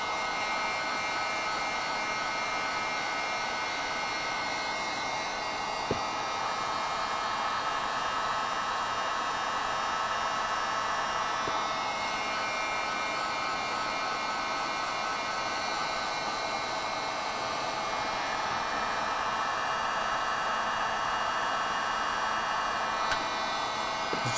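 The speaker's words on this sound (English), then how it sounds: "just going to use a heat gun" A heat gun blows steadily while shrinking a heat-shrink seal onto a wire harness inside a 2007-2013 Chevrolet Silverado, a constant close whooshing hiss with airflow, lasting throughout with no talk.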